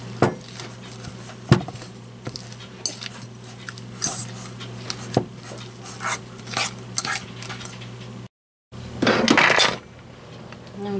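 Utensil clinking and scraping in a bowl while cheesy spinach dip with garlic pepper seasoning is mixed, irregular knocks up close, with a brief louder rustle near the end.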